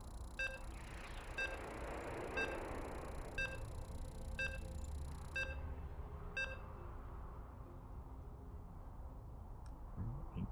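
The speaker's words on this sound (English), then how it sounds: "And you can hear the beeps." Game-start countdown beeps in StarCraft at a Korean league tournament: a steady series of short, evenly spaced electronic tones over loud, continuous crowd and broadcast noise, stopping midway as the noise carries on.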